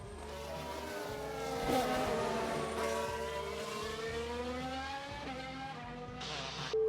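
Lance Stroll's Formula 1 car crashing during qualifying at Montreal in the F1 Manager 2023 video game: a steady engine whine with shifting pitch sweeps and a scrape, heard fairly close and loud with no talk.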